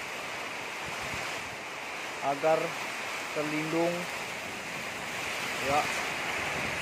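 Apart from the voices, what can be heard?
strong storm wind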